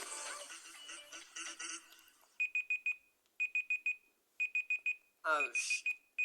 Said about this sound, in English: add in a timer sound effect